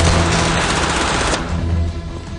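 Machine gun fire in a Hindi-dubbed Hollywood action movie: a loud, dense burst of rapid shots that cuts off after a second and a half, leaving a fading rumble.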